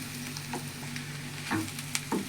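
Ivy gourd and grated coconut curry frying in a pan, a low steady sizzle with a few soft stirring scrapes and taps near the end, close and fairly quiet.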